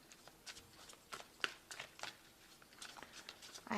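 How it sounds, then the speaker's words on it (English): Tarot cards are shuffled in quick, soft riffles and flicks close by, a papery rustling in irregular bursts with no talking. "I have shuffled this deck."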